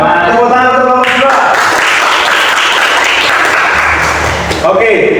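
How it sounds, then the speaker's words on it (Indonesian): A class of students gives a round of applause for a student group, the clapping rising dense and close for about three seconds after a voice speaks, then fading as talk resumes. "Tepuk tangan untuk kelompok dua"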